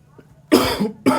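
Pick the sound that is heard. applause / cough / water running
cough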